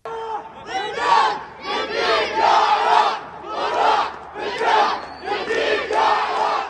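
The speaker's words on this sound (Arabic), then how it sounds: "الجماهير التي فدت العراق بهتافها الصاخب" Iraqi football fans chant loudly in rhythmic waves of massed voices, a dense crowd roaring in repeated surges with no pause across the whole stretch.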